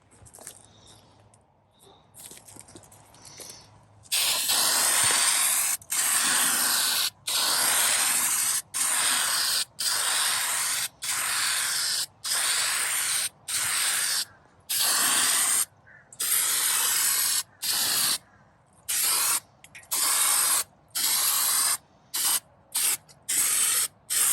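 Long bursts of spray hissing from an aerosol paint can while restoring an old tool box, repeated many times with short pauses between, loud and close, getting choppier toward the end.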